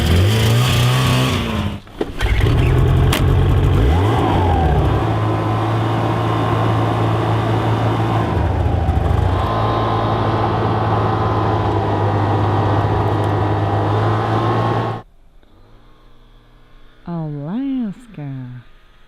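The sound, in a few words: vehicle engine driving up a steep snowy ridge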